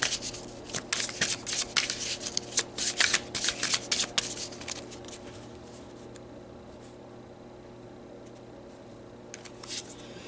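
Tarot cards shuffled by hand in quick, crisp riffling bursts for several seconds, then quiet with a faint steady hum behind.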